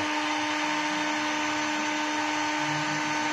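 A hot air gun set to its high setting runs with a loud, steady whirring blower hum and airy rush, unbroken and close, with no talk.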